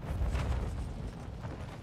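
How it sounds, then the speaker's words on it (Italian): Bomb blasts in the shooter game Warzone 2.0, heard as a continuous low, rumbling roar of explosions that stays loud across the whole moment with no talk over it. "Ci muoio con sti botti."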